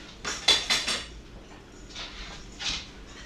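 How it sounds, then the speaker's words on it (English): A whisk is pulled from a drawer of kitchen utensils, giving a few quick metallic clinks and rattles at close range, followed by softer handling clatter, with no talking. "We're going to get a whisk."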